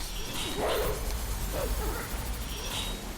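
Wolf Link in the video game Twilight Princess gives a few short yips and barks over a steady game soundscape, with faint low chatter underneath.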